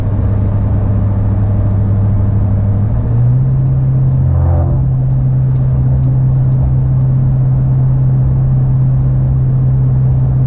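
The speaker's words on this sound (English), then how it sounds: "right now we're at 55, 60 mile an hour. You can hear there's no drone at all" Steady low engine and exhaust drone of a Toyota Tundra fitted with a Borla dual exhaust cruising at 55 to 60 mph, a constant even rumble with road noise throughout and no rise or fall in pitch.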